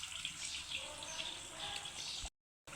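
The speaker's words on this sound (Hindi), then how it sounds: "मैं डालूँगी थोड़ा सा इसमें पानी।" Water pouring into a cooking pot of browned, sautéed ingredients, a steady close splashing rush that cuts off abruptly near the end.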